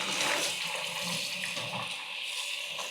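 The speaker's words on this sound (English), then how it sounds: "So we dump all of this hot water here." Hot water poured and mixed with cold water, a steady close rush and splash of liquid lasting throughout, with no talking.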